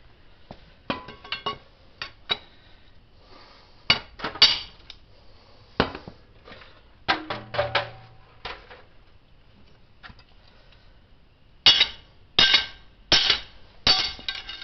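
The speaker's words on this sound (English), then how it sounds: "We need to find a bar that'll fit in there that we can hammer through." Metal hammer strikes on a bar driven against a valve in a 1953 Ford flathead V8 ring out in irregular bursts, sharp clanks spaced by pauses, with a quick run of four heavy blows near the end.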